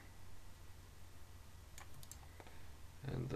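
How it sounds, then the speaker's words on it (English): A few faint, crisp computer keyboard key clicks tap in a short irregular cluster over quiet background hum, followed by the start of speech. "the easiest way to do it is to hit 9 on your keyboard"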